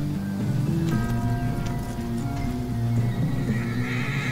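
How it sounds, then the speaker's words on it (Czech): In Red Dead Redemption 2, a horse whinnies and neighs over a steady low hum and soft hoof clops, loud and close, with the neigh carrying a wavering pitch through most of the moment. "Co je můj kůň, vole?"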